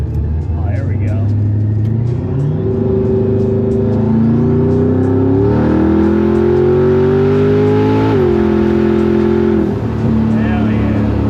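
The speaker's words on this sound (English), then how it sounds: "This is how a Grand National should be sounding." A 1500hp Roadster Shop Buick Grand National engine revs loudly close by, its pitch climbing and falling through several throttle blips and settling into a rough idle.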